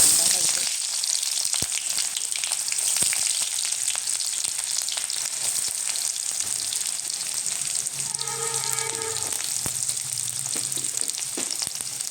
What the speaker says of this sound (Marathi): मी थोडं आता जिरं मोहरी घालते छान गरम झालं आहे ते